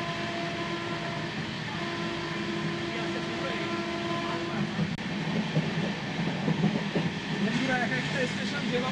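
The Sealdah–Jalpaiguri Humsafar Express runs at speed, its rumble and rail clatter loud and continuous from inside the coach, with a brief sharp clack midway.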